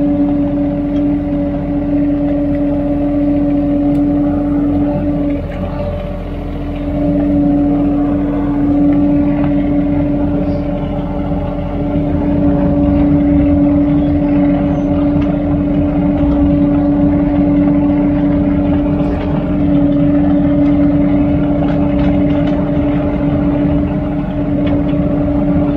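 A 301 mini excavator's engine runs steadily while pulling back topsoil, a loud, close, continuous droning hum with slight swells over about twenty-five seconds and no talking.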